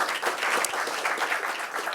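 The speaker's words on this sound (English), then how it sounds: "A quick round of applause for all 10 of our speakers here today." Conference audience applauding ten lightning-talk speakers, a dense, even wash of clapping from a room full of people, sustained and moderately loud for the whole moment.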